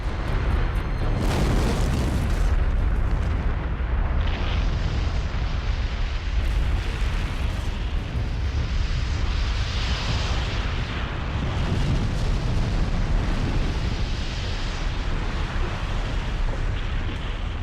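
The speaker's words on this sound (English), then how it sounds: "Vesuvius erupted around 1 p.m., throwing a broiling, churning column of gas and ash high into the air." Eruption of Vesuvius rendered as a sustained roaring explosion effect, with deep rumbling booms and bursts rolling continuously throughout at high volume.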